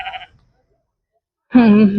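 A single sheep gives one loud, close bleat after a stretch of silence at the Chillakallu sheep and goat market. A faint, brief sound comes just before it.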